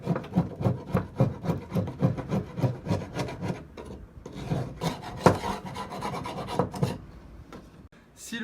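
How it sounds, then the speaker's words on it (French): A metal hive tool scrapes a wooden frame from a Dadant beehive clean in quick repeated rasping strokes, close and fairly quiet, in a steady rhythm that turns more irregular toward the end. "vous allez devoir faire comme dans la ruche ou la ruchette, le nettoyage avec le lève-cadre"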